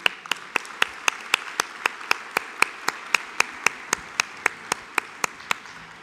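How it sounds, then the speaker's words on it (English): Audience clapping for speakers at a talk on generative AI: a steady, evenly spaced run of sharp claps, about four per second, lasting around six seconds with no voices over it. "Let's give them a big round of applause."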